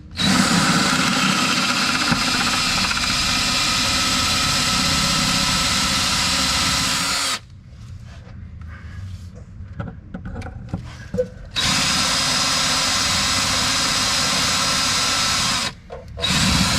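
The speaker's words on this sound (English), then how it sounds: "3/16 drill bit." A power drill fitted with a 3/16 inch bit drills out pop rivets on a C3 Corvette Indianapolis Pace Car, whining loudly and steadily for several seconds, dropping briefly into quieter rattling, then resuming at full speed.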